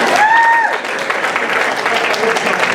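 Audience applause at a Hindi poetry recital (kavi sammelan) held by the International Hindi Association in New York: steady, dense clapping filling the whole stretch, with a brief whistle-like tone near the start.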